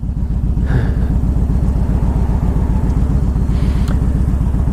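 A 2000 Harley-Davidson Ultra Classic motorcycle pulling onto a highway, its engine a close, loud, steady pulsing low rumble with faint wind noise over it.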